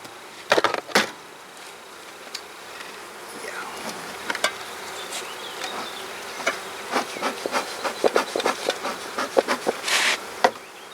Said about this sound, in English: decent group of bees there